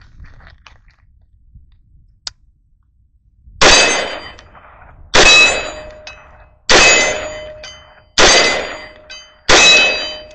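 A Springfield Saint 5.56 rifle fires at steel targets outdoors, facing into the sun: five loud, evenly spaced shots about a second and a half apart, each followed by a ringing metallic clang.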